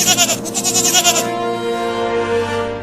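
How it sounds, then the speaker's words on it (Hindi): A goat bleats in a long, loud, wavering cry close by, pulsing rapidly at first and then stretching into a steady drawn-out tone. "बकरी।"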